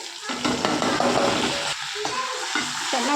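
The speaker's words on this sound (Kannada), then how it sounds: "ಫ್ರೈ ಮಾಡ್ಕೊಳ್ಳೋಣ ಇದು ಒಳ್ಳೆ ಬ್ರೌನ್ ಕಲರ್ ಆಗೋವರೆಗೂ" Onion, mustard seeds, cumin and curry leaves frying in hot oil for an eggplant gojju, with a steady close sizzle and several sharp spatula clinks against the pan throughout.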